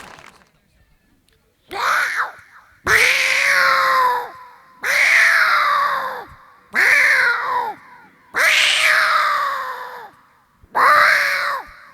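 A person imitates a cat, letting out six loud, drawn-out meows one after another with short pauses between them.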